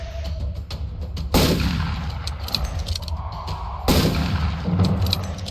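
Gunshots ring out in a shooter video game played on XREAL Air AR glasses: two sharp, loud reports several seconds apart, each trailing into a long echoing decay over a steady low rumble, with no talking.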